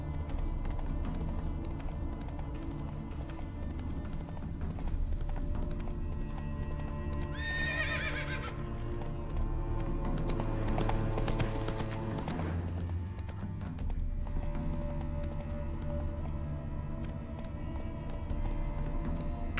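Roach, a horse in The Witcher 3: Wild Hunt, gives a clear whinny partway through while hooves clip-clop in a steady rhythm over a low ambient game backdrop.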